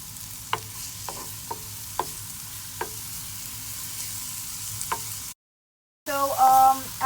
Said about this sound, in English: we're going to add in our onion. And we'll just saute this for a little bit.